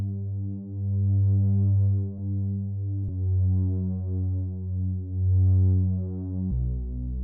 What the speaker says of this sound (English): the next sound that I have here is this bass